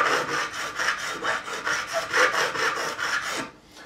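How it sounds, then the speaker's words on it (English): Profiling file rasped back and forth over the frets of a Fender Special HSS Stratocaster guitar to remove burrs, about a dozen even, rhythmic strokes close up, ending abruptly. "take the profiling file, clean up, and we're just going to remove any burrs and smooth it off"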